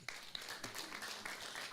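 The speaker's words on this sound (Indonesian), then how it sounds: "Beri tepuk tangan bagi Tuhan." Soft clapping from a church congregation, a brief stretch of scattered hands heard faintly at a distance, with a few thin high tones drifting above it.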